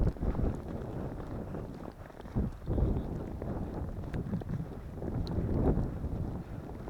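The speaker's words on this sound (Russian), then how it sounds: "Еще бы ветра не было, было бы вообще шикарно." Strong wind blows along a lake shore during a winter snowstorm while out fishing, a steady, rough, low roar with gusts buffeting the microphone and no clear voices.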